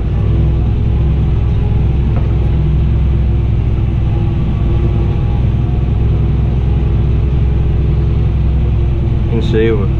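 A Fendt 1050 tractor crosses a bumpy field rutted by a subsoiler, with a loud, steady engine rumble heard from the cab and a voice talking over it.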